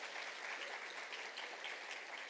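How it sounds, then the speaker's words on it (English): Faint, distant audience applause at a university startup showcase, a soft steady patter of clapping heard from afar for a couple of seconds. "Big round of applause for you"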